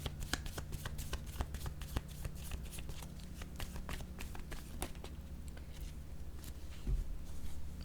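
Tarot cards being shuffled by hand, a steady run of soft, crisp riffling snaps and flicks, close and fairly quiet, with no voices over them.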